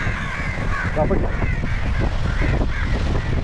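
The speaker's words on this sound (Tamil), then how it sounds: "காக்காலாம் இருக்குங்க." Repeated harsh crow caws ring out over a steady, noisy outdoor background on an island in Lakshadweep.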